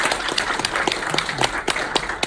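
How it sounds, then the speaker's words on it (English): A room of guests at a retirement party claps in a full, sustained round of applause, with crisp individual claps standing out from the dense patter. "I would just like to have one last round of applause for them and the success"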